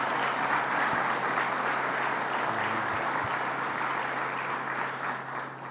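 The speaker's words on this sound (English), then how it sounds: "So let's give them a round of applause." Sustained audience applause at a public event announcing a New York State rescue of the Alcoa plant in Massena, steady dense clapping throughout that slowly fades toward the end, no talk over it.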